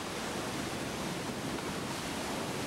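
Giant waves break at Waimea Bay, Hawaii, as a constant, loud roar of surf with no distinct individual crashes and no voices.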